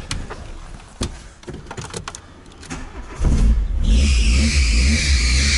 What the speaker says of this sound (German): Jetzt muss ich doch noch einsteigen und Gas geben